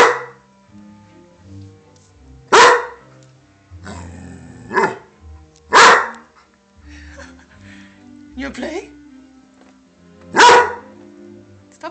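A dog barks in sharp single bursts, about four times with pauses between, loud and close, while a person talks between the barks; the dog wants to play.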